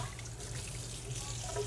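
Water running steadily into a large pot being filled for canning jars of pickled beets, a soft continuous wash and trickle held at an even level throughout, with no voices.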